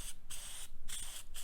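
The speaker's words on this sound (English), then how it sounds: "go back and with the aerosol and spray" An aerosol can sprays in short hissing bursts onto the pleats of a dried air filter from a 2006 Chevy HHR 2.4 liter engine, three close, steady jets separated by brief pauses.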